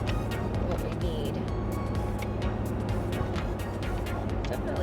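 Inside a moving 2004 Land Rover Discovery 2, a steady low engine and road rumble fills the cabin, with occasional light clicks and rattles.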